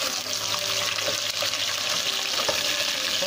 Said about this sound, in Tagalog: Konting prito lang natin sa butter.